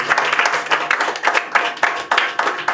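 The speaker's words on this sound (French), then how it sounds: "on peut applaudir Nathan qui a été valeureux" A small studio audience claps for a contestant at the end of a quiz game about Europe: a short, lively patter of close hand claps with uneven rhythm that rises and falls over a few seconds.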